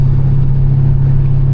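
A twin-turbocharged 5.7-litre Dodge Charger engine idles loudly up close, a deep, steady, even rumble with no revving or changes in pitch.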